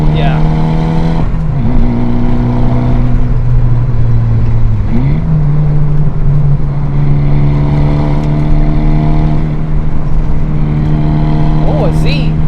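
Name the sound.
car driving on a canyon road during a brake upgrade test drive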